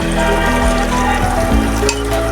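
Water hits a pan of frying spice paste and sets off a loud, steady, crackling sizzle that carries through the whole moment without speech.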